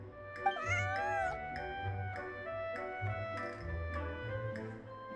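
A cat in a co-op adventure video game gives a clear drawn-out meow near the start, followed by softer repeated short meows over steady background game music.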